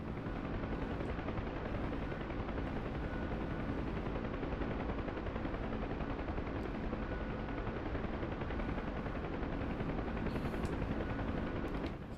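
Continuous dense machine gun fire from a helicopter door gunner in the DCS World flight simulator, a relentless rapid rattle blended with rotor noise, loud and unbroken for the whole stretch with no talking.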